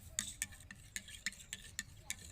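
Sour buttermilk mixed with dung ash and a milkweed plant additive is stirred in a container, making about nine sharp scraping strokes in a steady rhythm, close and fairly quiet, with no talk.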